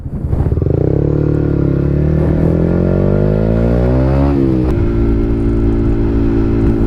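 A Yamaha MT-125 motorcycle engine idles steadily up close while stationary, a loud continuous rumble with a brief blip of revs partway through before settling back to a steady idle.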